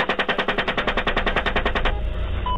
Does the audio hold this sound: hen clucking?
no